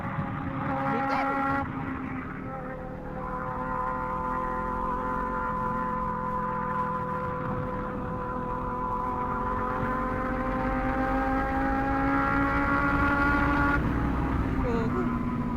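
A Kawasaki Z400 motorcycle's engine drones steadily at high revs through a ride, harmonic whine rising and holding under wind rush, with a voice talking over it.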